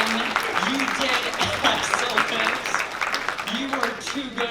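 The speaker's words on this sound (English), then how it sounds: "May I get a round of applause for Miss Little?" A crowd at a political speaking event in Amarillo, Texas, applauds in a steady wash of claps while a voice talks over it.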